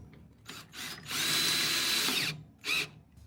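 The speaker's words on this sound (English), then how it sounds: "then we're going to go ahead and use the drill" A power drill tightens bolts on a Tesla Cybertruck: two short whirring bursts, then a long high-pitched run lasting over a second, and one more brief burst. It is close and loud, with no talking.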